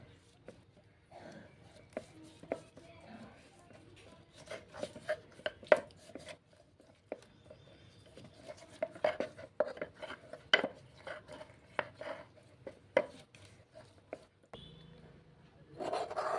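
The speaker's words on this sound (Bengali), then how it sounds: "তারপর এইগুলোকে একটি নোড়ার সাহায্যে ভালো করে মিশিয়ে নিতে হবে" A stone pestle pounding and mixing a spice paste with turmeric, irregular close knocks and scraping strokes in bursts, fairly quiet, with faint background voice.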